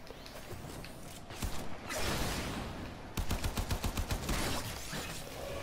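Gunfire in the video game Warframe: a few scattered shots, then a fast, steady burst of rapid rifle fire, loud and close over a constant background hum.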